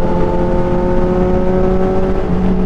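A motorcycle, a Kawasaki Z1000R on a breakfast ride near Clark, passes with a steady droning engine tone that holds close and loud, with a slight pitch shift near the end.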